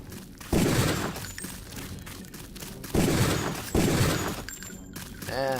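Bursts of video game gunfire from Deus Ex, including a lethal takedown, ring out in three loud volleys separated by quieter stretches, with a brief distorted electronic sound at the end.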